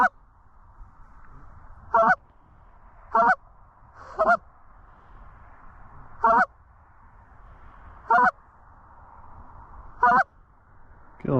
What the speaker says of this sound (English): Is that a goose?